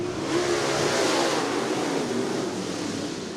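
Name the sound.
late model race cars accelerating at green flag, speedway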